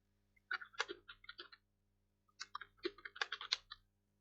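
Bursts of keystrokes on a computer keyboard while a name is entered into a website template, two quick runs of clicky taps separated by a pause, close and fairly quiet.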